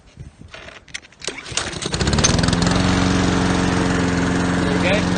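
A Honda OHC 135cc lawn mower engine starts after a few rattling clicks, then settles into a loud, steady running drone close by.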